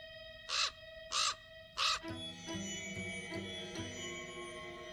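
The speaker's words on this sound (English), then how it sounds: "The damn bird again." A raven in the game Black Mirror 2 gives three loud, evenly spaced caws, close by, followed by a low layered ambient rumble with soft metallic clinks.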